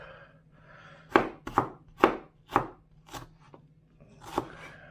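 A knife slices potatoes into thin strips on a cutting board for potato croquettes, making about seven crisp, close chops at an uneven pace, with quiet pauses between strokes.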